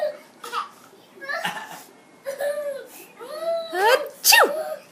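A young child imitates a sneeze, letting out several playful 'achoo' bursts that get louder toward the end. Adults talk and laugh around the child in a quiet room.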